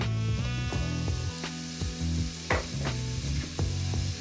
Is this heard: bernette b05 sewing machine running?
no